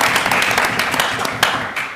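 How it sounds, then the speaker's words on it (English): A crowd applauds at an election night event at the London School of Economics during the 2024 UK general election. The clapping is loud, close and sustained, a continuous dense roar of many hands with a few sharper claps standing out. "Big round of applause."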